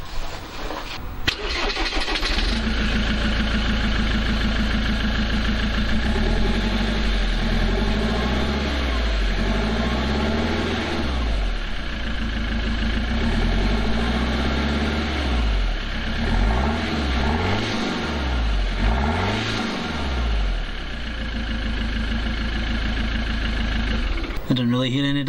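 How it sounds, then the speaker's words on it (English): The engine of a Ford Transit MK7 LWB van starts and runs at idle with the exhaust removed. The loud, raw rumble holds steady throughout with a few small rises in revs, and a voice speaks over it at times. "Is anyone else curious what this sounds like with the exhaust off?"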